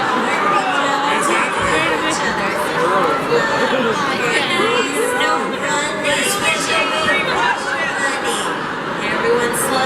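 A Comic-Con panel crowd fills the hall with constant chatter, murmuring and scattered cheers as people line up, loud and close throughout, with a voice speaking briefly over the din.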